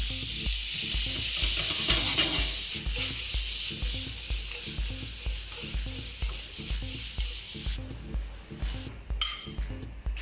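Butter with mushrooms sizzles steadily in a hot frying pan, a constant close hiss with faint clinks and low soft knocks throughout, and no talking.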